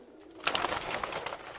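Pigeons of assorted breeds coo and stir in a loft, a dense continuous bird chorus that swells after a quiet start and stays fairly close and steady.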